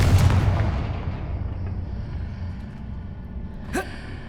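In the Hogwarts Legacy video game, a Confringo spell goes off as a loud booming blast at the start and fades away slowly, followed near the end by a short, sharp burst.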